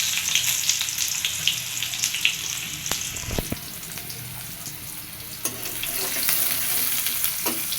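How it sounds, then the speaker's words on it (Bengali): Cumin seeds crackle and sizzle in hot oil, a steady close frying hiss with a brief clatter of stirring partway through. "তেল গরম হয়ে গেছে এর ভিতরে এখন দিয়ে দিব জিরে ফোড়নে দিলাম জিরে"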